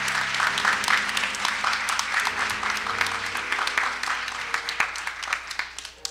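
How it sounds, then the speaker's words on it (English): A church congregation applauds during a Baptist anniversary service, steady hand clapping across the whole stretch with a faint sustained organ or keyboard tone underneath. "Let's give God a hand clap of praise."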